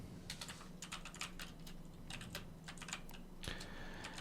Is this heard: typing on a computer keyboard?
yes